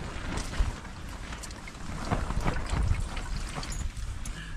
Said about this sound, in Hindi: कैमरा ही गिर जा रहा है, क्योंकि बहुत हवा चल रही है